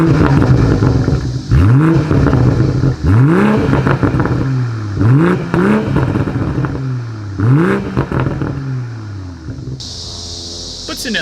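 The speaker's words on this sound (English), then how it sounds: "As always, here is that exhaust clip." A 2020 BMW M340i sedan's exhaust barks through a series of sharp revs, each rising and falling in pitch, repeated roughly six times in a loud, close rhythm.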